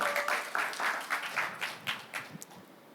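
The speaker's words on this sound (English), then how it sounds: "Let's give him a round of applause." A crowd at a crypto conference session, Korea Blockchain Week 2025, gives a short round of applause for a guest. It starts as dense clapping and quickly thins to scattered, separate claps over about three seconds.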